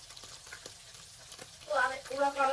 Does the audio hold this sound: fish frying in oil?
yes